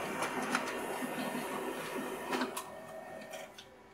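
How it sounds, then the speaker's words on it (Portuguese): An OKI C711 color laser printer runs a photo print job, giving a steady mechanical whir with a few brief clicks and rattles. The sound fades slightly toward the end, with no talking. "Vou mandar mais uma impressão nela aqui, uma foto."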